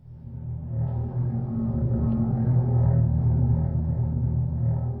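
A simulated underwater rattling sound, loud and rumbling, swells in and holds as a dense, murky low roar over several seconds, with no talking.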